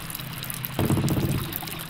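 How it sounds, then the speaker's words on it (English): Water leaking in the video game Worms Revolution: a steady pouring, trickling rush that starts abruptly partway through and continues at fairly close range, alone without talk. "Just a leakage of water, that's all."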